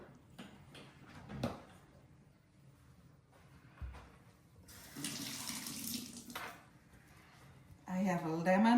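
A lemon is rinsed under a running kitchen tap, with water splashing and running in the middle of the stretch, soft and close, between scattered handling noises and a brief rise of other sound at the end.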